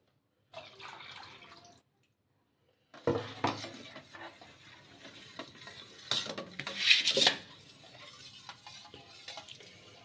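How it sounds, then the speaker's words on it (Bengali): Neem leaf paste being stirred into melted soap in a pot, with close scraping, clinking and wet rubbing of a utensil against the pot in irregular bursts, separated by short quiet gaps. "এইবারে আমি নিম পাতার পেস্টটা এতে দিয়ে দেব"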